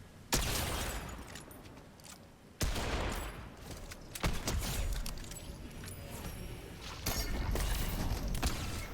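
Video game gunfire from a player's weapon in a chaotic match, loud bursts of rapid shots breaking into dense, sustained crackling volleys with short gaps, close and harsh throughout.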